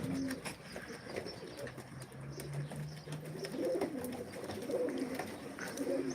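Pigeons coo softly and repeatedly in the background at a live pigeon auction, low throaty calls over a constant murmur of ambient noise.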